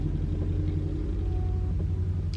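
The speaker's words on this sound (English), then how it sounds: "I'm so sorry if you keep hearing the traffic coming through my neighborhood." Steady low road rumble of car traffic passing through a residential neighborhood, continuous and moderately close with a faint engine drone, no voices.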